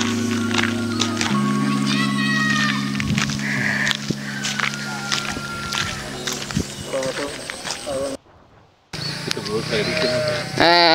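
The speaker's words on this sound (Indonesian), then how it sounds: "udah kedengeran nih suara mbeknya nih" Goats bleat now and then amid outdoor background noise, with a person talking nearby and a brief dropout near the end.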